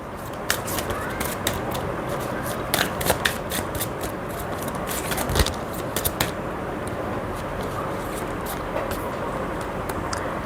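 A deck of intuitive oracle cards is shuffled over and over, giving a steady, close riffling and flicking with sharper snaps at intervals and no voices.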